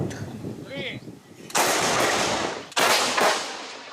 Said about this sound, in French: préparation au tir, procédure millimétrée et obus de 155 mm